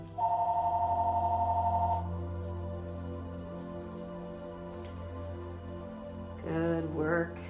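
Home telephone ringing with an electronic ringer: a sustained steady tone for about two seconds, then after a pause a brief warbling trill, over a constant low background hum, with no one talking.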